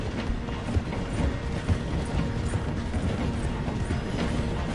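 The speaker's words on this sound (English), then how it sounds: "The train is slowing down to go through the station." A train slowing as it passes through a station, with steady low rumble and rhythmic rail clatter of wagons, including a flat carriage, running close by and continuous throughout.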